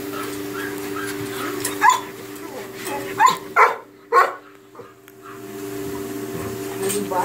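A dog at a grooming shop barks close by, four sharp barks spread over a few seconds, with a steady electrical hum underneath.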